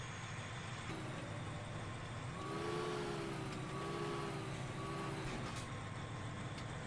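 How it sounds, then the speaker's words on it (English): A huge John Deere 9620R tractor in Farming Simulator 17 rumbles with a steady, dense engine drone that swells slightly midway, alone without talk. "I did purchase this ginormous John Deere tractor, this 9620R. It's a monster tractor."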